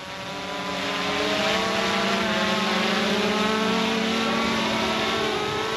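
A GoPro Karma quadcopter drone in flight gives off a steady, fairly loud multi-toned rotor whine that holds nearly constant pitch throughout, with no talking.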